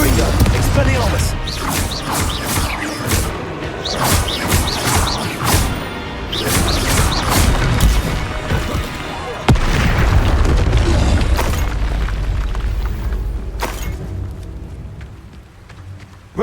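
Combat in Hogwarts Legacy fills the scene with spell casting, loud booming explosions and crashing impacts in rapid succession, while a voice shouts over the noisy battle.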